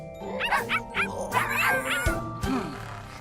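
Cartoon puppies yip and bark in a quick series of short, high-pitched barks and whimpers, close and lively over a soft musical background.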